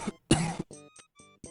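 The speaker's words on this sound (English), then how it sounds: "who is coughing up a storm over there?" A character coughing in the adventure game Gabriel Knight: Sins of the Fathers, a few harsh, close coughs in quick succession separated by short gaps, with no other sound around them.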